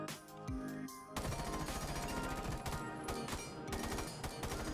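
Rapid automatic weapon fire from a shooter video game, a dense stream of quick repeated shots under a music-like bed, loud and continuous after a brief intro.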